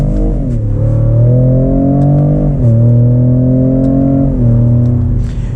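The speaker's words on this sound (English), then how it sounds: "Let's get one more acceleration." A 2020 Ford Raptor pickup accelerating hard, its loud, close engine climbing steadily in pitch through the gears, with a shift near the start and two more near the middle and end, each followed by a fresh climb.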